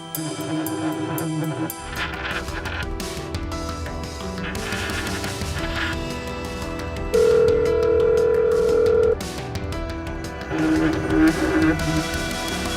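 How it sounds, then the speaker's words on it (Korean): A telephone rings with a steady electronic tone over background music, sounding twice in extended bursts. "오 형사가 전화를 걸자 천상우의 사무실에서 전화벨이 울리고"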